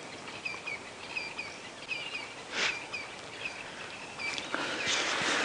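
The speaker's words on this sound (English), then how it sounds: "There's some birds fluttering around." Birds flit about at dawn on a safari drive in the bush, giving scattered, faint chirps and tweets over a quiet, rustling outdoor background.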